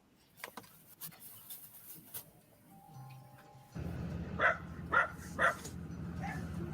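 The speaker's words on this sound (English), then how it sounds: "now the dogs are barking" Dogs bark at a hilltop property reached by a steep climb: three distinct barks in quick succession, moderately distant over a steady background hiss, after a stretch of faint ticking and scattered sounds.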